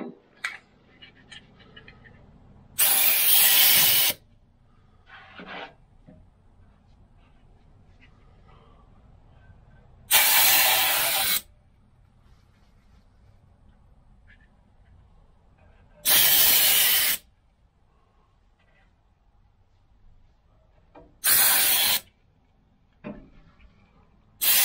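Compressed air blasts blow dust off a Harman pellet stove: four loud bursts of hissing air, each a second or so long, separated by quiet gaps with faint handling noises.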